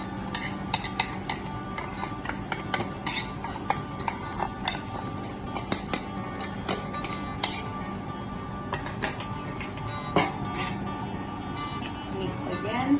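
Batter for spoon doughnuts is stirred after the eggs go in, with a steady run of spoon scrapes and clinks against a bowl repeating close by, over a low hum.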